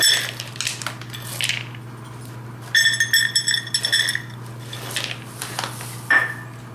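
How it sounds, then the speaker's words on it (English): A cup of pistachios tipped into a bowl for a stuffed chicken thigh filling, with bursts of light clattering and rattling nuts at close range against a steady low hum. "I'm also going to add a cup of pistachios"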